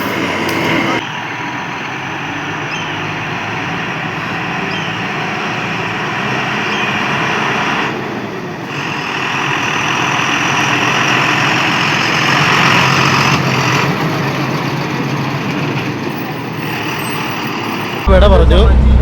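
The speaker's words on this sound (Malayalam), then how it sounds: "ഇതാണ് ഞങ്ങളുടെ വണ്ടി. ഞങ്ങൾ പോവുകയാണ്." A loaded onion truck's diesel engine runs loudly and steadily as the vehicle pulls away, a continuous rumble with brief surges and a sharp jolt near the end.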